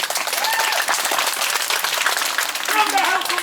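Thunderous applause from a theatre audience at a Romeo and Juliet performance, a dense, continuous wash of many hands clapping at close range.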